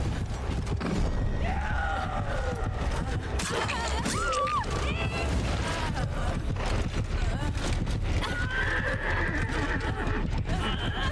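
Horse neighing in the Dead by Daylight video game, a loud whinny with clip-clopping hooves and mechanical game sounds under a steady layer of background noise.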